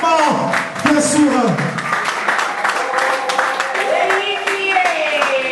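Applause at a posthumous award ceremony for a meritocracy prize, with clapping mixed under a voice announcing and speaking throughout.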